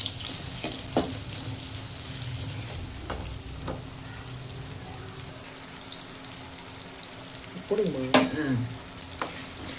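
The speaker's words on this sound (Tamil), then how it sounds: "வெங்காயம் கொஞ்சம் வதங்கட்டும்" Green chillies and shallots sauté in hot oil for tomato rice, a steady close sizzle with a few sharp stirring scrapes and a louder burst of frying and stirring near the end.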